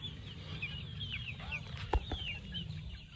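Young chickens pecking at grass: soft chirps and clucks scattered throughout, fairly near but quiet, with a brief flap or bump in the middle over low outdoor background noise.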